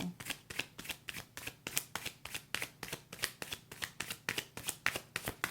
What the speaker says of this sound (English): I'm going to pull one more card to see what it is that may change.